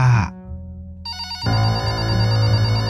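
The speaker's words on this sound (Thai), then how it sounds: "มันดังอีกแล้ว โทรศัพท์ เอาไงดีจะรับไม่รับ เสียงก็ดังซะด้วย" A cartoon telephone rings loudly with a bright electronic bell tone, cutting out briefly before resuming in a sustained, insistent ring.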